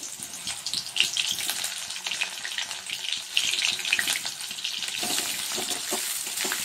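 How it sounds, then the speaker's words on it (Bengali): Young jackfruit pieces fry in hot oil in a kadai, giving a steady crackling sizzle with small pops and faint stirring, close and moderately loud with no talk. "প্রথমে তেলে এঁচোড়টা ভেজে নিতে হবে।"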